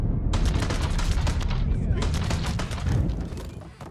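Dense bursts of rapid gunfire rattle in the video game Mafia, loud and close, with overlapping automatic shots and booming impacts continuing for several seconds.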